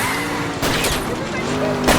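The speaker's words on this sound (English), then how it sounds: "I'll try to shoot out his tires." A quick burst of gunshots fired at a fleeing car's tires in L.A. Noire cracks over the steady roar of a speeding car, with a final shot near the end.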